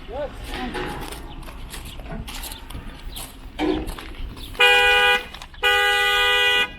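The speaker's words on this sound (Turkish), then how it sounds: "Kornayla köpekleri çağırıyorlar." People talk outdoors, then a vehicle horn blares twice in long, loud honks close by, sounded to call street dogs for feeding.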